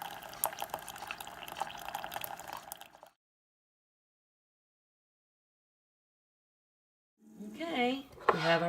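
A peppermint mocha pours into a mug with a steady liquid rush for a few seconds before it stops abruptly. Silence follows, then a person starts talking.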